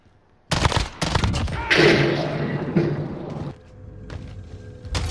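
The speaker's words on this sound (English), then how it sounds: "He's being shot at." Bursts of gunfire in a shooter video game played with a burst rifle: several loud, close volleys of sharp shots in quick succession, then a quieter stretch and one more burst at the end.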